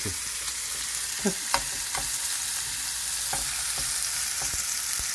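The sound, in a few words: meat frying in a pan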